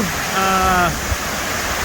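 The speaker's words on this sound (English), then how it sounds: "this is the overflow to Big Brook." Water rushing over the dam overflow at Big Brook Dam in Pemberton: a loud, steady broadband rush, with a brief voice-like tone rising over it early on.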